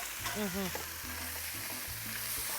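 Mango pieces sizzling as they are stirred through a masala paste in a hot pan for Trinidadian mango talkari, a steady fry broken by scraping spoon strokes, with a few faint voice-like tones early on.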